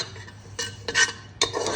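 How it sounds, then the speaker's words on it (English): Whole spices, including green and black cardamom, shah jeera, clove, cinnamon and pepper, are tipped into hot oil and stirred, giving several quick metallic scrapes and clinks of a utensil against the pan over a faint background hiss. "We put all that into the oil."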